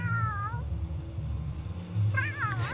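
A cat in the video game The Sims 3 gives two drawn-out, wavering meows, one at the start and one near the end, over a steady low game background hum, with no talking.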